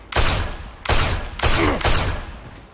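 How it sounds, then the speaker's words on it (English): Four loud, evenly spaced booming shots from a slow-firing gun in Fallout 3, each blast with a short decaying tail and a clear gap before the next, close and alone. "God, this gun shoots so slow."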